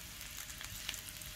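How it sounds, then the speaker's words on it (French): Potatoes sautéing in butter and garlic in a pan over medium-high heat, giving a steady, close sizzle and crackle of frying with no voices. "Venez bien retourner ça pour que le beurre s'imprègne un peu partout sur la pomme de terre."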